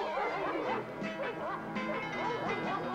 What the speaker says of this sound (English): Johann, they've released dogs